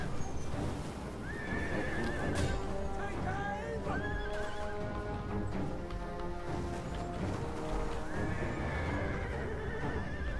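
Cavalry horses neighing and whinnying repeatedly amid hoofbeats and clashing combat in a Total War Attila battle, with dense, continuous noise and voices talking over it.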